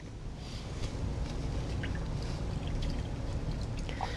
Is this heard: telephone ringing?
no